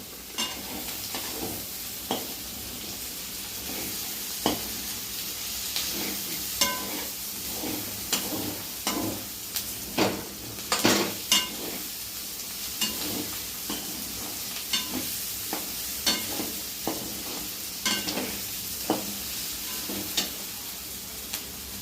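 Okra with chopped green chilies sizzling in a pan while being stirred, with a continuous fry hiss broken by repeated sharp scraping and clinking strokes of the spoon, close and without talk.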